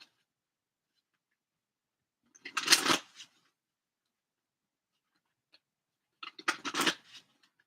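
Oracle cards from an Elemental Oracle deck are shuffled in two short, close bursts of riffling paper, each lasting about a second, with quiet pauses between and around them.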